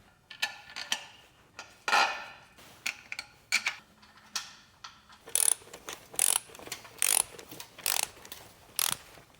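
Ratcheting of a wrench while tightening bolts to draw a manual transmission onto a BMW E36 325is engine: close, crisp clicking bursts in uneven runs, with short pauses between strokes.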